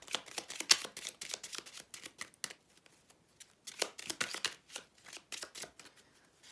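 Tarot cards are shuffled and drawn by hand in quick, papery riffling bursts that come close and crisp, with short pauses between bursts.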